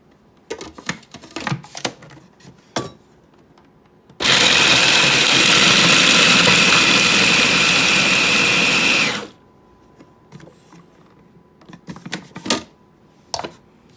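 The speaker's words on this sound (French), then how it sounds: "Et maintenant, on va le mixer au robot." Food processor grinding almonds and walnuts for baklava, a loud continuous whirring roar lasting about five seconds, with clattering kitchen handling before and after.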